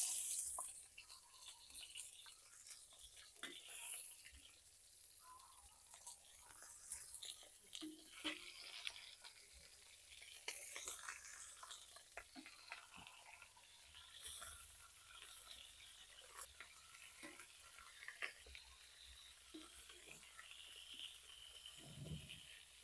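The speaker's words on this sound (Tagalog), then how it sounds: "let's sear first our sliced pata" Sliced pork leg searing in hot oil in a heated pan, a quiet, steady sizzle with faint crackles and occasional scraping stirs, no one talking over it.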